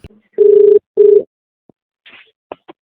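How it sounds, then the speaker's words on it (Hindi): A telephone call is placed: two loud, steady ringback tones sound in the earpiece, followed by faint clicks and a brief rustle of the line connecting, with no speech. "वो आंटी के पास फ़ोन करते हैं"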